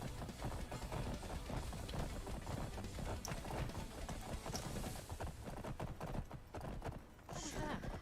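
A summoned horse in the video game Skyrim trots with steady, rhythmic clip-clop hoofbeats, quiet overall but continuous throughout, with a brief whinny-like sound near the end.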